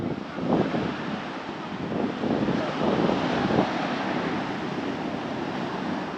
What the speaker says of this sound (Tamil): கடல் சத்தம் கேட்குதுங்களா எப்படி